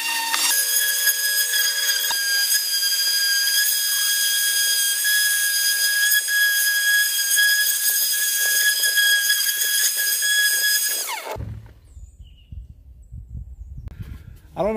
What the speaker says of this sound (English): I'm just going to use the sander